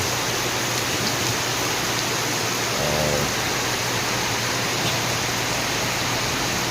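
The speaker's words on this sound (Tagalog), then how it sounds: "Sounds from ulan, baha, hangin" Heavy rain pours steadily with wind and flood water, a dense, loud, continuous hiss with no pauses and a brief low thump partway through.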